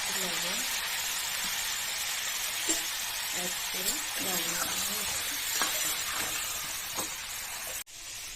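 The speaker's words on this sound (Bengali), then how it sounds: "কড়াইতে তেল গরম করে পটলগুলোকে হালকা করে ভেজে নেব।" Pointed gourd (potol) pieces fry lightly in hot oil in a kadai, giving a steady, close hiss of sizzling with occasional stirring scrapes, and a faint voice murmurs underneath.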